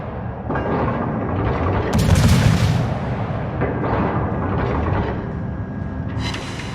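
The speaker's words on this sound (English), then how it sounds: "Now it looks like he's firing armor piercing at me, which if it would penetrate would do some damage." Naval gunfire from warships in a video game featuring the French destroyer Jaguar, with armor-piercing shells exchanged: a dense rumbling barrage with one loud, sharp blast near the middle, booming over constant low battle noise.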